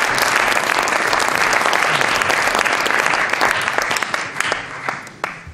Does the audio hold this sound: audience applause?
yes